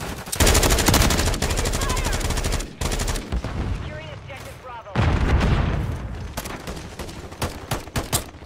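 Call of Duty MW3 gunfire: loud, rapid automatic bursts with dense repeated shots, brief pauses between volleys and a few scattered single shots near the end, with voices talking over it.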